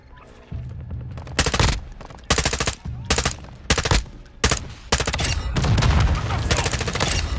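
Gunfire aimed at the player in Call of Duty DMZ: loud, close bursts of automatic fire in repeated volleys, separated by short gaps, with sustained rattling near the end.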